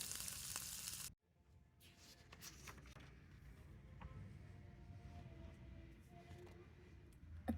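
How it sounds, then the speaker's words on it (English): A soft, continuous sizzle of fish frying in oil over a fire, fairly quiet, following a brief burst of louder hiss at the start. "a group of women sitting around a fire, frying fish"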